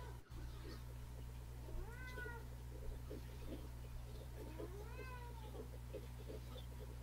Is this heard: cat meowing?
yes